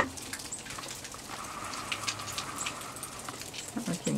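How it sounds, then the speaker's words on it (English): Rainwater drips off a farm roof in the early morning after a light shower, soft irregular patters and ticks, faint and close, against a quiet outdoor background with no talk. "And it's dripping off the roof, it's what we hear."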